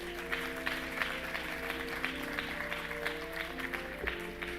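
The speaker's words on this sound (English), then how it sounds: "Please give all of our award winners a round of applause." An assembly audience applauds award winners at a Women's History Month event, with steady, moderately distant clapping held at an even level.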